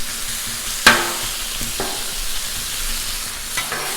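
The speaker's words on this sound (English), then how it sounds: "Alright, now we're just going to let this stuff cook up." Food fries in oil on a Blackstone griddle, making a continuous close sizzle with a sharp scraping stir near the start and a few softer scrapes later.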